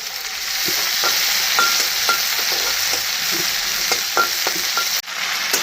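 A ladle mashing potatoes in a simmering curry makes repeated soft knocks and scrapes against the pot over a steady bubbling hiss, close and fairly loud, with a brief thump near the end and no talking.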